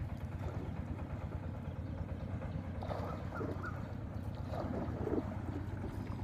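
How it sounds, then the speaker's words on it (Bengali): A small wooden country boat is rowed across open water, with a low, continuous rumble and heavy wind buffeting the microphone, broken only by faint splashes and knocks. "আমার বন্ধু চালায় নৌকা আর মুই করি ভিডিও।"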